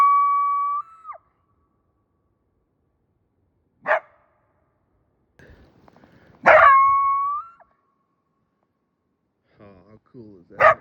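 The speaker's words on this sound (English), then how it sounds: "Two huge coyotes too." Two large coyotes held in snare cables on ice give short bursts of barking and yipping, some with longer howl-like tones, spaced several seconds apart with quiet gaps between.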